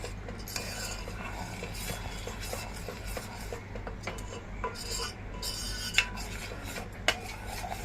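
Metal spoon scraping and clinking against a pot while cardamom and nutmeg are stirred into basundi, a thick sweetened milk dessert; steady soft scraping with a couple of sharper taps near the end.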